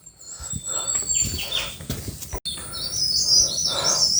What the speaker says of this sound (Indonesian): Di sekitar ini banyak suara burung-burung ya.